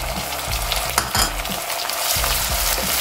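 Chopped tomatoes and curry leaves fry in a hot pan for a spicy sweet potato tamarind stew, giving a steady close sizzle broken by a few scraping stirs and clinks, with no talking.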